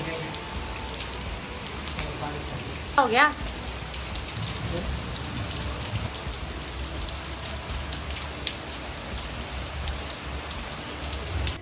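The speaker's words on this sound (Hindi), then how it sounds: "इस साल तो कुछ ज़्यादा ही बारिश हो रही है।" Heavy rain pouring down steadily in a dense, continuous hiss of drops on surfaces, loud throughout, with a brief burst of voice and other sound near the start.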